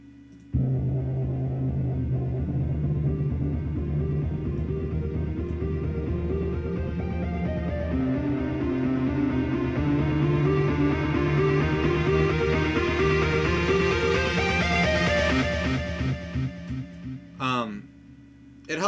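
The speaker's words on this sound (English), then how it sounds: "the beginning of the song is just the simple piano" A simple piano line opens a dubstep song built in FL Studio, playing steady chords and notes that hold a fairly even level, then thin out and fade near the end, with a brief burst at the close.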